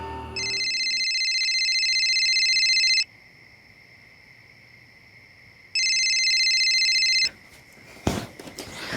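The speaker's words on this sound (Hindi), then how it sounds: "एक दिन सोफिया ने सामने से मुझे फ़ोन किया।" A phone rings with an incoming call, two long electronic ringtone bursts separated by a pause, loud and close, followed by a brief clunk of handling.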